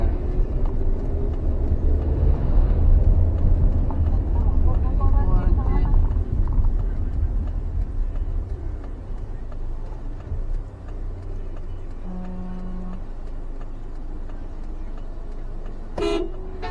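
Large trucks on a steep mountain road in Sumatra, their loud low engine rumble dominating and then easing, with a steady horn tone and a short toot near the end, while people talk inside the car.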